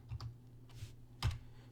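Keystrokes on a computer keyboard during a Linux setup, heard as a few separate quiet clicks spread across the moment, with a double tap near the start and a firmer press later.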